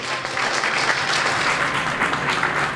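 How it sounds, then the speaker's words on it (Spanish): A Startup Grind talk audience in Santiago de Chile gives a loud, dense round of applause, steady and close throughout with no voices on top. "Démosle un gran aplauso."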